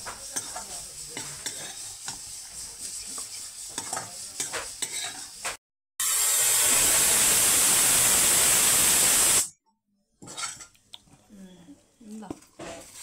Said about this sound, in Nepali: यस्तो रातो हुन्छ भुट्नुपर्छ यसलाई